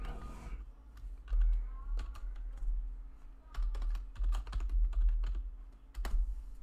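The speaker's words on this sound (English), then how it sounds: "Let me just type this shit in." Computer keyboard typing, bursts of quick clicking keystrokes with brief pauses, close and fairly loud over a low background hum.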